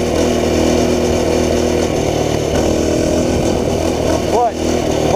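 A minibike with a stock Tillotson 212 engine accelerates from a standstill, its loud, steady buzzing drone holding close and constant throughout with a brief dip near the end.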